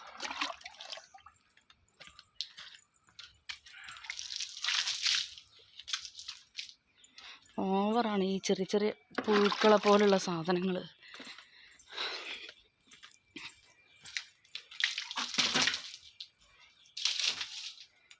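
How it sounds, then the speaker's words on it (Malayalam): Water is splashed outside a house to wash away small worms, heard as short rushing splashes between stretches of close talking. "വെള്ളം കൊണ്ട് ഇങ്ങനെ നനച്ച് കൊടുക്കട്ടെ"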